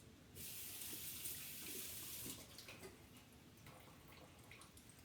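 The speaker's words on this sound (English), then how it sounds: "Quickly wash my hands." A kitchen tap runs at a steady rush for about two seconds during hand washing, then gives way to faint splashes and drips, quiet and close.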